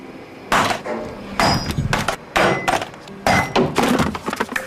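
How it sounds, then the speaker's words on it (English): A Ryobi sander is dropped from six feet in a durability test, producing several loud, sharp clattering impacts in bursts, each followed by brief rattling as it settles. "What happens to this sander is typical. This is called the 6-foot drop test."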